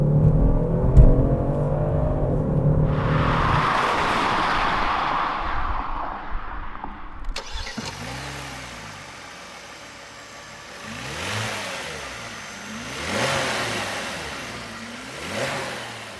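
A 2019 Genesis G70 twin-turbocharged V6 engine revs hard and accelerates in sport mode, then after a gear change climbs repeatedly through rising and falling sweeps as the car speeds away, with no talking.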